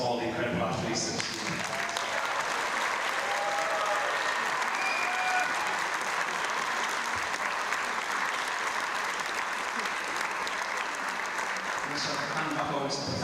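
Sustained applause fills a large venue as an audience claps for athletes at a British lead climbing championship final, a dense, steady roar of many hands that continues evenly throughout, with a little crowd noise mixed in.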